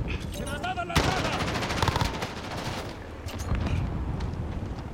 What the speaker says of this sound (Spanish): Nos maté con la granada, ¿tú puedes creer eso?